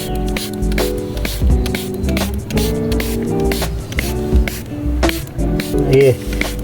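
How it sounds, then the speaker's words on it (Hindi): Light spraying of water from a hand sprayer over freshly sown onion seeds, a steady hissing mist sound running throughout, fairly loud and close, with background noise mixed in. "ऊपर से आप हल्की स्प्रे कर दें।"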